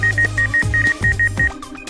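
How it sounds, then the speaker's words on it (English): A computerized straight-stitch sewing machine with short-thread trimming sounds its low-oil alarm: a run of about nine short, evenly spaced electronic beeps over a low motor hum, loud and close. "Lack of oil, we have both screen remind and voice alarm."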